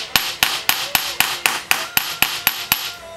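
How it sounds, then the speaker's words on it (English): A smooth-faced ball peen hammer taps a solid piece of steel in a steady rhythm, about a dozen sharp, evenly spaced ringing strikes, close and alone. "take a smooth faced ball peen and get a nice piece of metal, steel, something solid"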